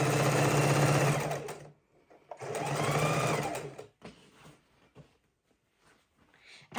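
A sewing machine stitches baby quilt seams in two sustained, buzzy runs of rapid needle chatter separated by a pause, followed by softer clicks and handling noises as fabric is adjusted.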